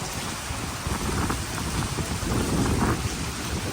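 Heavy rain pours steadily with a dense hiss of drops hitting surfaces, swelling in gusts as wind pushes it, loud and close.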